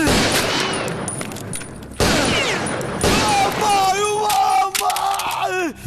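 Gunfire in a Kannada action film fight scene: dense bursts of shots and a crowd yelling open, then a sharp burst mid-clip, with rising whistling and ringing tones layered over the shooting, all loud.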